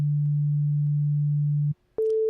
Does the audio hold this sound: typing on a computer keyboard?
no